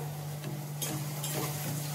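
Onions and tomatoes fry in a pan for palak paneer, giving a steady soft sizzle with a couple of brief stirring scrapes, close and fairly quiet.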